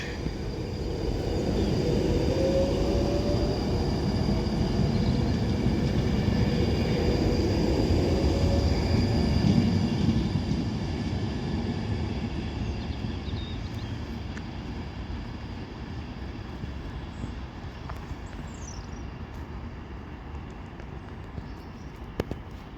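An Avanti West Coast Class 390 Pendolino, unit 390-137, departs Wigan North Western on the West Coast Main Line, a steady loud rumble and rolling rail noise that slowly eases as it pulls away.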